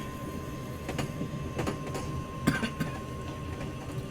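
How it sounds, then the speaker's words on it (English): A Metro-North M2 electric multiple unit is driven on the New Haven line in a Train Simulator game, giving a steady rolling rumble with periodic rhythmic clacks from the wheels and no talk over it. "Luna, I am driving the M2 in TS."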